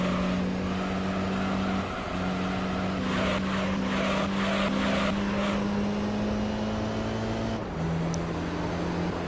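Race car engine in Gran Turismo 3 at the Route 11 circuit, a steady droning hum holding pitch with brief shifts and dips as the car runs at speed, loud and continuous.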